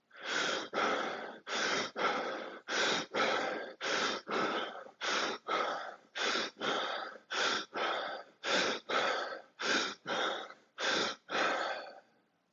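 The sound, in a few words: deep breathing during meditation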